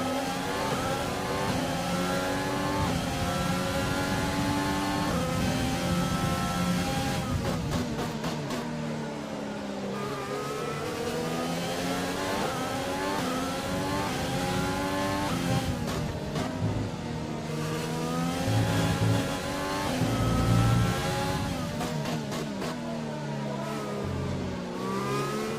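Formula 1 cars in the F1 2020 racing game surge away after a safety-car restart, engines revving and rising in pitch through gear changes, loud and continuous with layered overlapping cars and sharp shifts.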